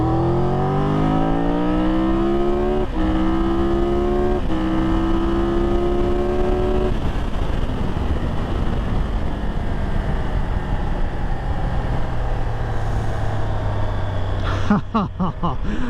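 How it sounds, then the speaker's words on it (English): A Triumph Tiger 1200 Rally Pro motorcycle engine accelerates hard, its pitch climbing in several rising sweeps broken by quick gear changes, then fading into steady wind-buffeted rumble and a few ragged pops near the end. "this engine rips. It sounds intoxicating, it's emotional, it's soulful"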